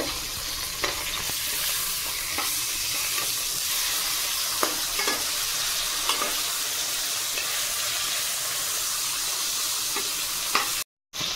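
Pomfret fish frying in hot oil after being flipped, a loud steady sizzle and crackle with scattered spatula taps and pops, cutting out for a moment near the end.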